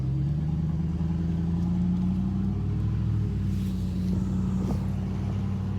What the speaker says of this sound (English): I'm hearing the blue truck again right as he drives in front of me